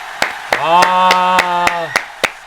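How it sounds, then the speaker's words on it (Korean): Hands clap about eight times in a steady, evenly spaced rhythm, sharp and close, while a voice holds a long sustained sound beneath the claps. "일단 박수 한번 치죠"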